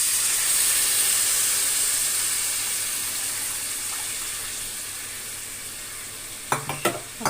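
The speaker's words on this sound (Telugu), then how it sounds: "ఇప్పుడు చింతపండు రసం పోసుకుందాం." Tamarind juice poured into a pot of cooking beetroot rasam brings up a continuous loud sizzle and hiss that slowly subsides, ending with a few sharp clinks of a utensil.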